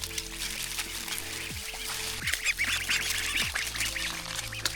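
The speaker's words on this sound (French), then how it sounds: "On tombe sur une petite armée de canards" Ducks quack at a farm in the mountains, a small crowd of them calling in irregular bursts over steady background noise, fairly close and moderately loud.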